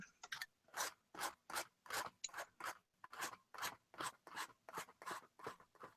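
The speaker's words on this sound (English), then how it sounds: "So with the new color down here, I'm also doing the scraping thing again." Paint being scraped across an artwork surface during painting: about a dozen quiet, rhythmic rasping strokes in steady succession, close and alone with no talking.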